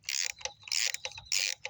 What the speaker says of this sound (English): And loosen that bolt.